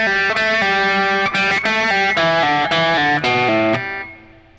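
Electric guitar playing a solo lick, a quick run of picked and pulled-off notes with an open G, loud and close, ending on a ringing note that fades.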